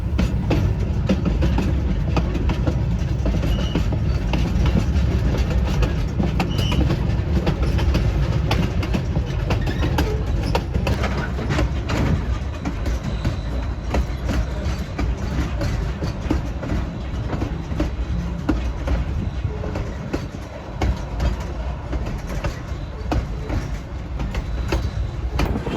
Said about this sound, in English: In the distance, we see 488 and train heading back down towards Chama.